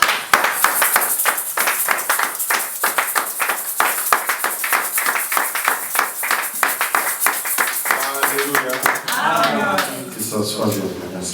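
A church congregation at a Sunday service claps in a steady, rapid rhythm, loud and close, with a voice speaking and singing over the applause toward the end.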